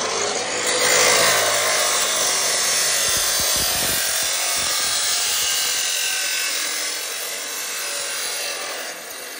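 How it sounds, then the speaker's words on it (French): A motorcycle exhaust silencer for a vintage CR250 enduro bike is cut down in a workshop, with a loud, continuous, rasping saw grind that stays close and steady throughout. "je suis venu faire recouper un silencieux parce que d'origine, il est un petit peu trop long"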